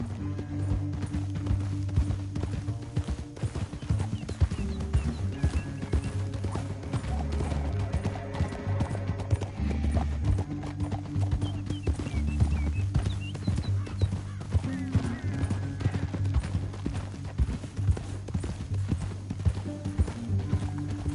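Steady clip-clop of galloping horse hooves in the video game Red Dead Redemption 2, under a loud, continuous music score, with no talk.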